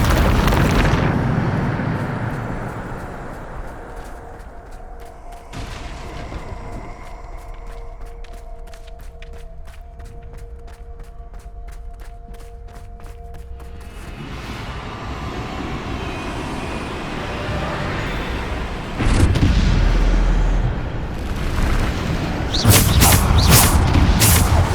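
Bombarda blasting spells in Hogwarts Legacy: deep booming explosions with rumbling low end, a loud burst near twenty seconds and more sharp blasts at the end, over a continuous background of game ambience and music.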